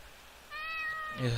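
A cat meows once in the video game Ao Oni, a clear drawn-out in-game meow, followed by a player's voice beginning to speak.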